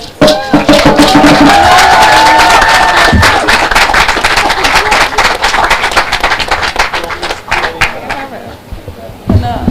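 A crowd at a Jamaican food media launch breaks into loud applause and cheering, dense clapping mixed with shouts and voices, staying strong for several seconds before easing slightly.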